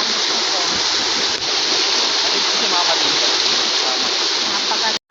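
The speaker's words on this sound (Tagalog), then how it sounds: "Galing yung tubig na yan guys, galing doon sa ano, waterfall." A waterfall pours with a steady, loud broadband rush of falling water, close and continuous, cutting off abruptly at the end.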